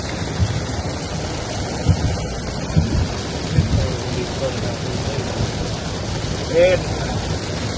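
Heavy rain pours steadily on Mother's Day in a flooded area near a Walmart, with several low rumbles of thunder rolling through; voices are heard faintly under the downpour.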